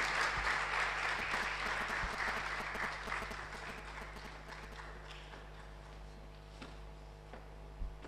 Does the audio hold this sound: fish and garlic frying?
no